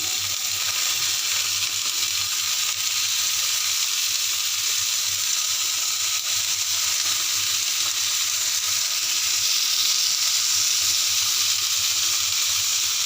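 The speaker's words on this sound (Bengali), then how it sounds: "এতে আমি একটা একটা করে চাল কুমড়ো এইভাবে ভাজতে দিয়ে দিচ্ছি।" Slices of ash gourd sizzle on an oiled tawa, giving a steady, close hiss of frying that holds even throughout with no talk.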